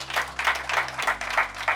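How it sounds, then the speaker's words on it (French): Audience applause at an open-house business event in Abidjan, Côte d'Ivoire, a steady patter of many hands clapping over a low hum, moderately loud and continuous for a couple of seconds with no talk. "que je vous demande d'applaudir."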